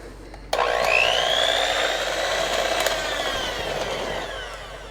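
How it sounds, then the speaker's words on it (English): An electric mixer whirs into chocolate pudding to smooth out lumps, switching on abruptly and holding a steady, rising motor whine for several seconds before easing slightly. "that's when you want to step in with your electric mixer, and that smooths it all out"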